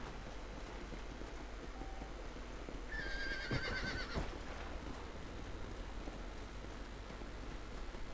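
Horse ridden through a ranch in the video game Red Dead Redemption, with a whinny and clip-clop hooves rising briefly in the middle over steady background ambience.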